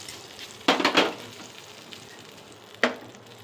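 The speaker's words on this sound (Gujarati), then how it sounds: "દહીંનો વઘાર થઈ ગયો છે ભાઈ" Curd tempered with spices in hot oil: a few quick sharp sizzling bursts, the loudest near the start and another shortly before the end, over a quiet background.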